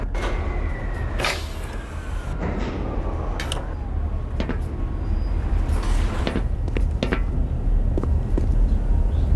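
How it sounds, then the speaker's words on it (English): Mechanical whoosh and clunks of an automated door opening in the Black Mesa Sector A training facility, a steady low hum throughout with a few sharp metallic hits and sliding sweeps. "Please stand back from the automated door."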